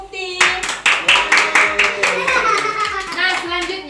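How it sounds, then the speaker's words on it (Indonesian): Schoolchildren in a classroom clap for a classmate in a rhythmic series of about a dozen close, sharp claps, with children's voices mixed in. "Tepuk tangan untuk Mukti."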